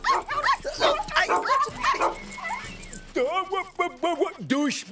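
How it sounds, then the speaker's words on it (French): A cartoon dog in a French children's animated episode yips and whimpers in short, eager bursts after a stretch of speech, the vocalisations loud and close. "Gentil toutou, qui veut un bon biscuit pour chien?"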